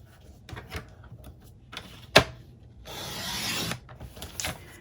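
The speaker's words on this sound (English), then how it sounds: "we're going to cut at the diagonal, but we're starting here and working our way down" A paper trimmer cuts diagonally across a 4 5/8 by 6 inch piece of cardstock, giving a sharp snap followed by a longer rasping slide of the blade, with faint rustles around it.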